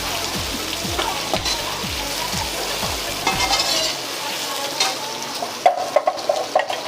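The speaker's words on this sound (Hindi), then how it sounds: "हमने थोड़ा सा प्याज डाला है इसमें" Onions sizzle in a hot pan while a spoon stirs them in quick repeated scrapes, and the sizzle carries on steadily underneath before clattering utensil taps take over near the end.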